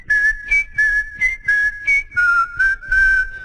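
Someone whistles a tune up close, a string of short rhythmic notes with slight pitch changes, with no talking.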